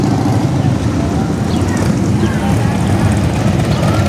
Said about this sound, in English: Bike's coming in.